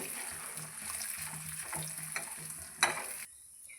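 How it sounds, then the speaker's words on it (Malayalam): Urad dal is stirred and fried in hot oil with mustard seeds for an Onam sadya koottukari. A close, steady sizzle runs under soft scraping stirs, with one sharp clatter just before it cuts off, and nobody speaks. "ഉഴുന്നിട്ട് നമുക്ക് ഇളക്കി മൂപ്പിക്കാം"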